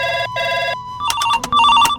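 A telephone rings indoors during a Maithili comedy sketch: two loud electronic trilling bursts, followed by a jumble of higher tonal beeps and chirps, close and clear with no voices over it.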